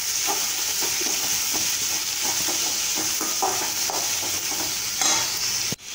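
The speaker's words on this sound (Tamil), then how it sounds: "தக்காளி இதையும் சேர்த்து கொஞ்சம் நல்லா வதக்கிக்கலாம்" Onions, green chillies and tomatoes sautéing in a pan for an idiyappam kurma, a busy sizzle with repeated spoon strokes scraping the pan, close and steady, ending with a sharp knock.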